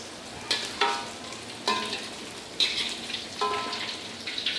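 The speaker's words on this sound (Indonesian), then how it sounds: "Ini goreng dulu ikan asinnya ya." Salted fish frying in oil gives a soft continuous sizzle, with several sharper crackling bursts and stirring scrapes every second or so, recorded close and fairly quiet.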